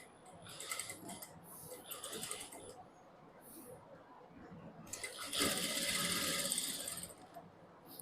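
A sewing machine runs a margin stitch along a circular palazzo pant, a whirring mechanical stitching burst in short runs, then a longer steady run near the end, with faint background noise.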